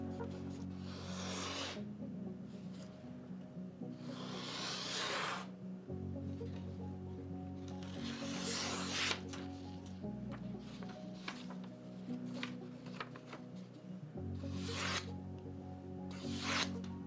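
A blade rasps rhythmically back and forth across a whetstone in long, steady strokes, a gritty scraping sound repeated at an even pace, close and fairly quiet.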